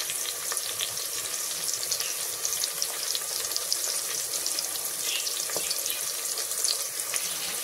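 Onions frying with a little salt in a home kitchen pan, a dense continuous sizzle with fine crackling that stays steady and close throughout.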